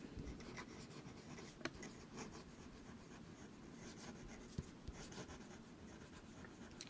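A dip pen nib scratches across paper in steady, close, quiet strokes, with a couple of small sharp ticks as the metal point catches the page.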